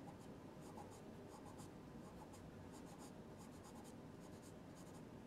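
A charcoal pencil scratches over paper during a soft pastel portrait, working the nose in quick bursts of short, bright strokes over a steady low room hum, close and fairly quiet.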